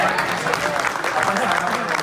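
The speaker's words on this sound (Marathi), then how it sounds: "जोरदार टाळ्या." Loud applause from a studio audience at a Marathi television serial launch on Star Pravah, a dense, steady clatter of clapping that fills the whole moment.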